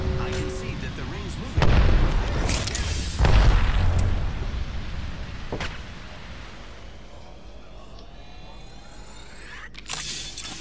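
An arc star grenade blows up in Apex Legends with a loud low boom at about the two-second mark and another heavy burst soon after, rumbling decay beneath a constant din of gameplay noise.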